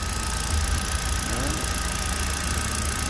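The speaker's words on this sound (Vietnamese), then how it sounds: "máy đang nổ các bác nhé" A 2014 Kia Morning petrol engine with a manual gearbox idles steadily, a close, even, continuous hum with a light rattle and no speech.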